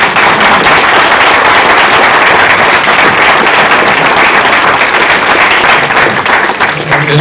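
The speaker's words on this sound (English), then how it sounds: "that's your cue for applause for both candidates" Loud, sustained applause from a forum audience for two election candidates, dense continuous clapping at close range filling the whole stretch without letup.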